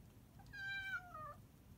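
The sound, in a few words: cat meowing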